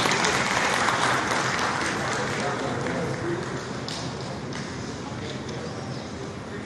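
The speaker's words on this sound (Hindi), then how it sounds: "एक बार जोरदार ताली हो जाए" At an award ceremony for Ayushman health card beneficiaries, a large audience claps in a sustained, dense burst that stays loud and steady from start to finish.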